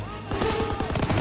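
Machine gun fire in the World War II shooter Call of Duty: WW2, a dense, loud rattling burst of rapid shots that runs continuously through the clip.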